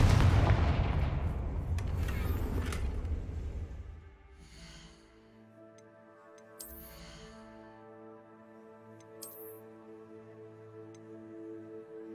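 Confringo explosive spell cast in the game Hogwarts Legacy: a loud, rumbling blast that fades into a quiet stretch, with a faint musical tone and a couple of small bright pings afterward.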